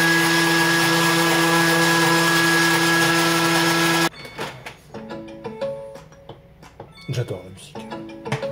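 A Thermomix TM7 whirs steadily for about four seconds while blending lime and mango tiramisu ingredients, then cuts off abruptly, and a person starts talking over faint background music.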